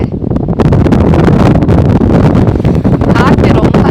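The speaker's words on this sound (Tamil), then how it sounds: "காற்று ரொம்ப அடிக்குது." Strong sea wind blasts across Pamban bridge, buffeting the microphone with loud, continuous roaring gusts from start to finish.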